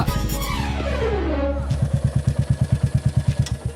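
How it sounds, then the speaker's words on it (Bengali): A motorcycle ridden past nearby gives a steady, rapid chugging engine pulse that grows louder and more distinct toward the end, following a rising tonal sweep and some background noise. "যে কেউ বাইক চালাচ্ছে"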